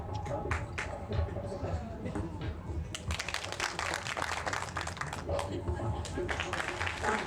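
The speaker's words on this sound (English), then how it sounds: "I want you to point in the direction you hear me clapping again" A single person claps hands in a lecture hall in separate bursts of sharp, fairly close claps, first sparse and then in quicker runs, with faint voices and room noise behind.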